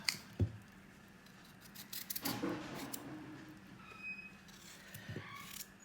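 Ingredients for cheese dumpling soup are cut on a kitchen surface, a few sharp, close snips and clicks spaced apart over quiet room sound.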